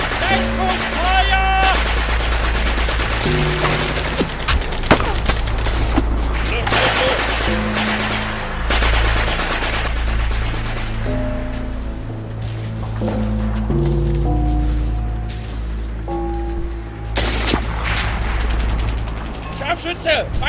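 Covering fire in a World War II battle scene: loud bursts of machine-gun and rifle fire, rapid rattling volleys with heavy booms underneath, shouting voices and music mixed in.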